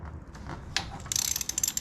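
A socket ratchet works a badly messed-up nut loose on a 1950 BSA B33 motorcycle during a rebuild. A quiet metallic clunk is followed by a quick run of crisp, close ratchet clicks.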